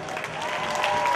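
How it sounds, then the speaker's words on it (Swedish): An audience at a school welcome event gives warm, steady applause for the winner and the teachers, a continuous clatter of many hands that swells slightly toward the end. "En varm applåd på vinnaren och lärarna!"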